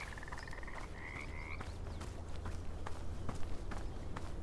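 Toad croaking in the video game Bramble: The Mountain King, a faint warbling croak early on amid quiet game ambience, with soft footstep-like taps and clicks continuing throughout.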